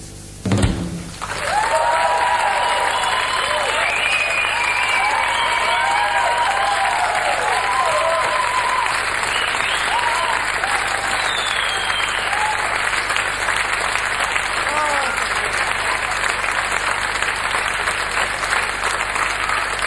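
Concert audience applauding a band, sustained dense clapping with some cheering that starts abruptly after a loud thump and continues steadily and loudly throughout.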